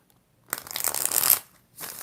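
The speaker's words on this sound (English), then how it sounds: "We're going to do 5 shuffles." Tarot cards are shuffled once in a brisk riffle, a close crisp flutter that builds for nearly a second and then cuts off, followed by a softer second rustle.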